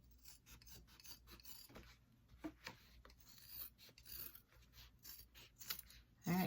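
Scissors trim the small fabric sides of a sewn hip bag with a series of quiet, close snips and rasping cuts in an irregular rhythm, followed by a louder rustle at the end.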